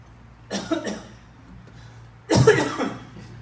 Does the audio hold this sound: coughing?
yes